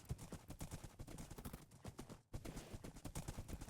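A horse trots steadily in a video game, its hooves clip-clopping in a quick, even rhythm against a busy, dense backdrop of game sound, with one brief gap partway through.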